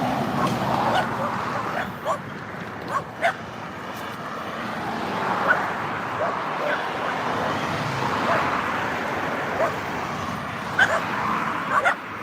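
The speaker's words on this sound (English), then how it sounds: "Hey doggy, look at the cute doggy." A dog barks several times, short sharp yips spread out over a steady background rumble, a little distant.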